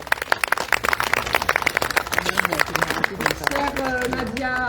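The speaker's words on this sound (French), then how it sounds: "On peut l'applaudir." Applause from an audience at a plaque unveiling ceremony for a cultural centre, a dense run of many hands clapping close by that thins and fades over a few seconds.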